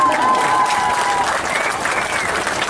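A crowd applauding steadily at a cycling race team presentation, a dense wash of clapping that holds at an even level throughout, with a faint whistle-like tone early on.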